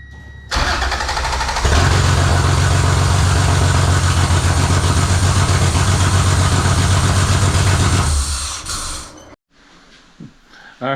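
A J-swapped car engine cranks and catches, then runs loud and steady at idle for several seconds close by before cutting off abruptly, leaving near silence.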